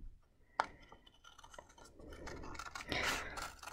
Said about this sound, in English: we're going to be cutting them out at different times